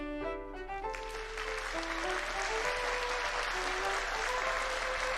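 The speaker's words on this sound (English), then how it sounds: "Again, the audience claps." An audience applauds at a ballet performance of Sleeping Beauty. The clapping swells into a dense, sustained ovation over soft orchestral music that fades out as the applause builds.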